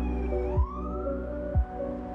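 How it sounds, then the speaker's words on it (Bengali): Ambulance siren on a rainy street in Malaysia, a wailing tone sweeping up and down at moderate distance over a steady low rumble of traffic, with two short thumps, no speech. "অ্যাম্বুলেন্স,"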